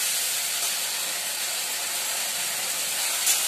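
Oil and spices spatter and sizzle in a frying pan, a steady close hiss that runs unbroken throughout with no voices.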